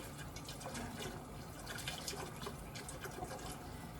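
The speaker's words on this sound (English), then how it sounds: "we're gonna add the potatoes and then cover it with water" A stove-top pot-filler spigot runs water into a pot of potatoes for catfish stew, a steady, fairly quiet rushing fill with faint splashing throughout.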